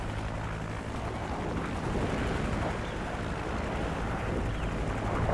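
A Hind attack helicopter in the video game Modern Warfare 2 roars in continuously, a dense, loud rotor and engine wash that fills the scene without pause and swells slightly as it approaches.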